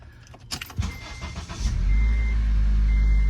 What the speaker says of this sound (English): I'm gonna start up the car